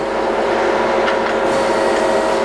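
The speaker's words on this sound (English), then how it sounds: "I'll show you the hydraulic chuck. So that's opening" Hydraulic chuck on a Haco Turn 560MN x 2000 CNC teach lathe opening, heard as a brief hiss and clunk rising over the loud, steady hum of the running machine, with no voices.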